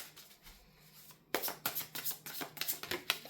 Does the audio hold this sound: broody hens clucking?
no